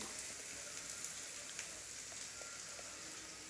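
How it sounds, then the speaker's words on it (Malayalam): Soft, steady sizzle of beef curry ingredients with ground green peppercorn paste sautéing in a pan, faint and even with small scattered crackles and no talking. "ഇനി ഇത് ചേർത്തിട്ട് നന്നായിട്ടൊന്ന് വഴറ്റിയെടുക്കാം"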